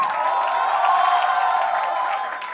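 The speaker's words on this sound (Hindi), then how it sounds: "जोरदार तालियां बजनी चाहिए नायाब" Sustained audience clapping and cheering greets performer Nayab Midha at a live comedy show, a dense, even wash of applause that tapers slightly at the end.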